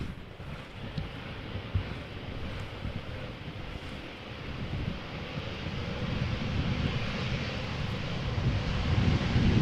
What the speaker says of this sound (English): Embraer 190 arriving from London City